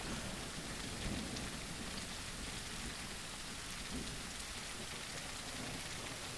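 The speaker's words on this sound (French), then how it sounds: "Est-ce que ce serait lié à la pluie?" Steady, dense rain pours down in the No One Survived video game, a constant hiss with a soft low rumble underneath and no voices.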